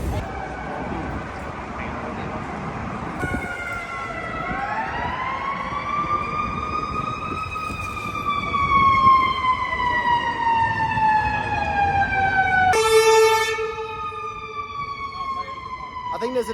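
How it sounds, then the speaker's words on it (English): A wailing ambulance siren rises and falls steadily over Chicago street noise, fairly loud and nearby, with a harmonic tone sliding slowly before cutting to a lower pitch. "I think there's an ambulance there."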